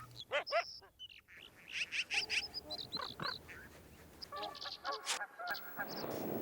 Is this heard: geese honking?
yes